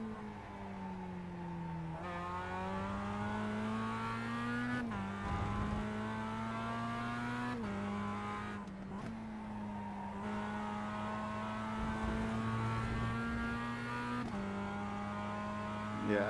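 Ford Mustang FR500S race car lapping Winton circuit, its engine note rising steadily through the gears and dropping sharply at each shift, loud and continuous from onboard across the whole lap section.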